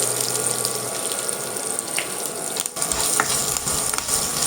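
Curry leaves and hing sizzle in hot oil with urad dal and chilies while tempering chana sundal, a steady bright crackle with a few sharper spits and a brief dip midway, close and unaccompanied by talk.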